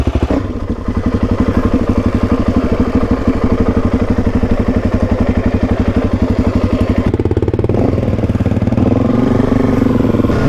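A dirt bike engine idles up close with a loud, rapid, even thumping pulse, shifting briefly to a slightly different, rougher beat toward the end, with no voices.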